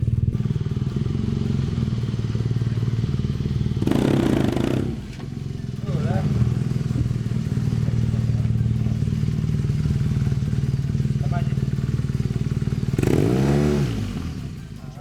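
Motorcycle ridden with the clutch in use, a steady close engine drone with revving swells near the start and end, while someone talks over it.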